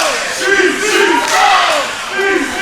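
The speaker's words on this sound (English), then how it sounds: "Chanting DC sucks." A loud wrestling arena crowd chants in rhythmic unison against a wrestler during an ultimate survival match, the massed voices swelling and repeating close and full.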